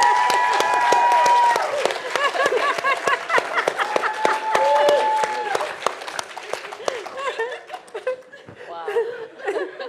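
Audience applause mixed with laughter and chatter at a talk, with a clapping crowd and people speaking over it as the applause fades.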